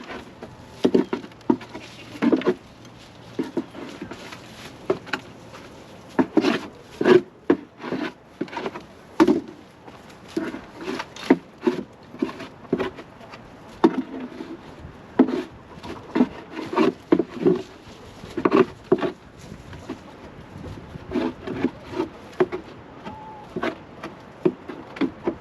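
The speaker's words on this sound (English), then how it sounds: "I use this to scrape out the inside of the" Scraping out the inside of a wooden chicken coop: repeated close scuffs and scratchy rubbing strokes in uneven bursts, with small knocks against wood, and no talking.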